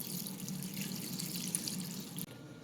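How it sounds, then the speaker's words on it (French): Water is poured steadily into a sauce pot while making Assrokouin sauce, a continuous close splashing rush that stops abruptly near the end, leaving a quieter residual trickle. "je rajoute 75 centilitres d'eau"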